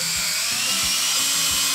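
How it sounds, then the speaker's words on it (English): A drill bores into a wooden board while mounting a staghorn fern, giving a steady high whining buzz up close with a few low thumps underneath, no talking. "just don't drill all the way through the board"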